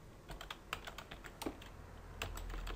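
Quiet typing on a computer keyboard: a run of light, irregular key clicks close by, faint and unhurried, with no talking.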